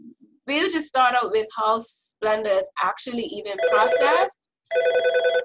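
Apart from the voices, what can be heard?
telephone ringing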